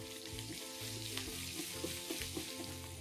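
Crushed garlic and chili frying in hot oil for an Indian tempering as they are stirred constantly, a close steady sizzle with light scraping taps, no voices.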